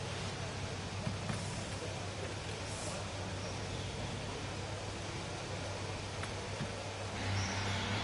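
Formula 1 car engine in the F1 24 racing game during a Singapore Grand Prix driver career session, a steady, fairly loud mechanical drone that holds evenly throughout, with a brief lift near the end.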